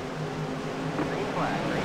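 Racing trucks in the iRacing Truck Series at Rockingham give a steady, loud engine drone with a rising tone near the end, a continuous mechanical roar with no talk over it.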